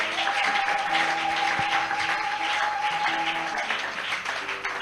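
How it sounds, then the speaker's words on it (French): A church congregation claps during a lively worship service, with steady, dense applause mixed with crowd noise and a sustained musical tone underneath, filling the room throughout. "Acclame Jésus, acclame Jésus"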